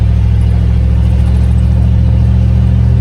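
A steady, loud low engine and road rumble comes from inside a car being driven with leaf spring rear suspension, constant and droning with no voices.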